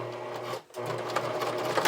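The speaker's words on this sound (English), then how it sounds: "I can top stitch this in place" A sewing machine top stitches a bra extender closure with a close, steady buzzing whir, pausing briefly partway through before running on at an even pace.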